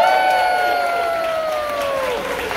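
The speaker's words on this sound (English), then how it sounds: "Please have a nice round of applause for our cruise director Marty, all the way from England." An audience on a Carnival cruise ship applauds and cheers for the cruise director on captain's night, loud close clapping and whoops over sustained tonal music that glides downward.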